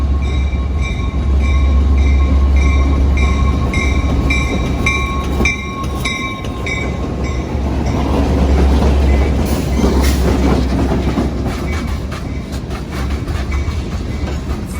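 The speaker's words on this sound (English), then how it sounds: "Train G73 is heading for Forest Park with an old GP38-2 in charge on the southbound run." A southbound freight train led by an old GP38-2 locomotive rolls through Hapeville, a loud, sustained rumble of wheels and cars with steady clatter, a brief tonal horn-like whine early on, and a dip before the roar resumes.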